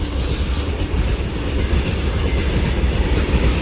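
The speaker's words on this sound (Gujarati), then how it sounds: "ચલો ગાઈસ ટ્રેન આવે તો તમને બતાવું." A rail train rolls past close by with a loud, continuous rumble and a steady clatter of wheels on track.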